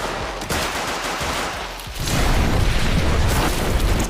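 Film action scene: loud gunfire bursts crackle, then a gas canister explodes into a sustained heavy roar of blast and debris that fills the rest of the moment.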